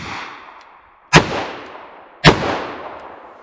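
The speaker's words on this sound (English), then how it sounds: "So I'm going to fire 3 different power levels from the same revolver." A revolver loaded with .38 Short Colt, .38 Special and .357 Magnum rounds fires in turn, with two sharp, loud shots about a second apart, each trailing a long echoing decay outdoors and the fading tail of an earlier shot at the start.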